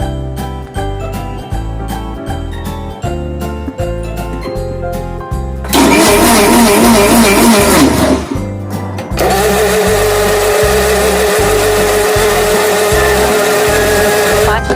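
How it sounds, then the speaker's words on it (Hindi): A mixer grinder whipping cream whirs loudly in two bursts, a steady high motor whine with a short pause between, over a rhythmic musical backing. "तब हम जार का ढक्कन बंद करके और इसे लगातार 5 मिनट तक मिक्सर में पीसेंगे।"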